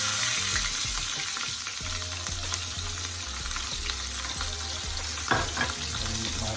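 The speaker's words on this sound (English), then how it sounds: "You guys fry up your seasoning." Sliced peppers and onion fry steadily in a pan over medium heat while sweet and sour pork is cooked, giving a continuous close sizzle with occasional stirring scrapes and no talk.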